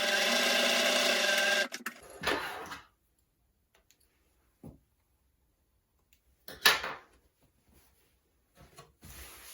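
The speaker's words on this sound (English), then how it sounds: "we've stitched together a nice little group of hexagons" A home sewing machine stitches hexagon quilt pieces in a short, fast mechanical whir, followed by scattered clicks, fabric handling and light taps with quiet gaps between.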